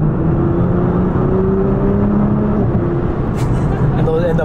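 A Nissan GT-R R35 engine in R mode revs loudly and steadily up close, with a few pops near the end and people talking over it.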